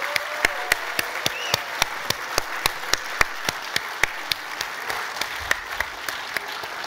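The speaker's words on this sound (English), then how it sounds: "right now, for all of us to give John Shoven a huge round of applause and appreciate the community." Audience at an economic summit claps in a steady, sharp rhythm, each clap distinct and evenly spaced, a moderate-sized crowd applauding without any speech over it.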